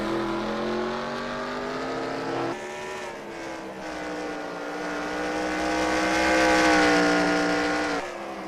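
NASCAR race cars in a video game roar past with high, whining engine tones that rise and shift in pitch through gear changes, loud and close, with no talk in this stretch.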